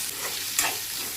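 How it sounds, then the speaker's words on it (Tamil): Potatoes and onions frying in a pan as they are stirred, a steady close sizzle with one brief scrape of the spoon partway through. "சேர்த்து நல்லா கிளறி விடுங்க."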